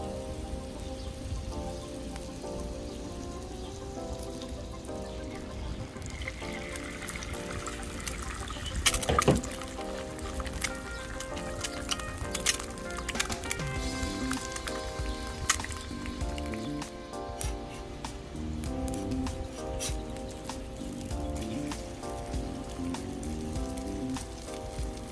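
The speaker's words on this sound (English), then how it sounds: "We lay down a pat of butter on the clean griddle, and then we put an egg down" Butter and an egg fry on a VEVOR 21-inch commercial electric griddle, giving a continuous fine crackling sizzle with a brief louder burst partway through, set against steady background music.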